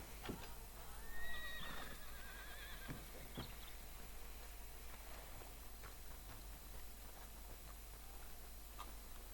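In the video game Red Dead Redemption 2, a horse whinnies once early on, followed by scattered hoof clops and ticking sounds over a steady low background hum, with no talking.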